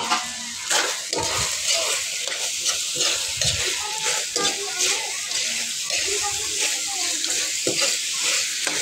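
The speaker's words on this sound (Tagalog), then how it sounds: "At dyan, lumalagitik na yan." Food crackles and sizzles in oil in a pan while being stirred, a continuous loud frying hiss with scraping strokes and small pops, and a voice talks over it.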